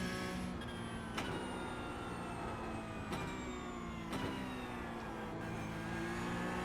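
A Porsche Cup race car in iRacing at Imola winds through its gears, engine pitch climbing steadily and then dropping sharply at each upshift, about four quick shifts, loud and up close with no talk.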